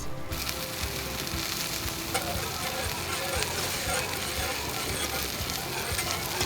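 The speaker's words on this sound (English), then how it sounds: "We'll give our reduction just a quick stir, check on that." Steady sizzling and frying of a reduction on a hot Blackstone griddle, with faint scraping of stirring underneath; continuous and close, no talking.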